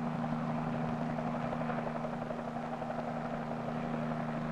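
An H-34 helicopter flying nearby, its rotor thumping steadily under a loud, continuous engine roar with no pauses.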